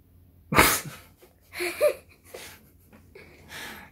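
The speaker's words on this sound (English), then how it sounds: "I'm gonna sneeze." A sharp, close sneeze bursts out, followed by a few breathy sniffs and exhales.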